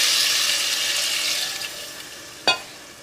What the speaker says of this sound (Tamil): இந்த ஸ்டேஜில் வந்து நம்ம எடுத்து வச்சு அளந்து வச்சுருக்கிற தண்ணியை இதில் ஊற்றிடுவோம்.